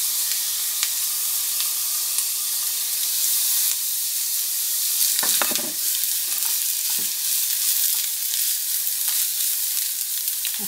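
Hydrated hibiscus flowers frying in hot oil for quesadillas, giving a loud, continuous sizzle and hiss with occasional crackling pops throughout.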